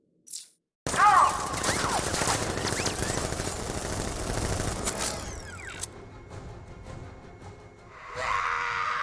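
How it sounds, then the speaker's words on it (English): Rapid gunfire rattles in Batman: Arkham Knight, a dense, loud burst of automatic shots with mechanical clatter that runs several seconds before fading, then a brief return of noise. "Open fire! Shoot everything!"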